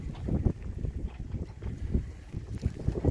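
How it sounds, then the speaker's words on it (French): Strong gusty wind from an arriving squall buffets the microphone in a steady low roar, with rushing, pulsing surges throughout. "le grain arrive, le vent forcit."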